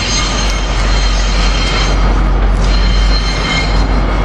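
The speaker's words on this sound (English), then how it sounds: "6033 is the cab car on the NGT train coming in." The NGT train led by cab car 6033 rolls into 30th Street station with a loud, steady rumble and faint wheel squeal, close by and continuous without speech.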